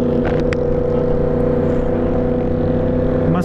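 A Yamaha MT-10 motorcycle engine drones loud and close with a steady, throaty growl, holding a sustained rumble at a group breakfast ride in Tagaytay.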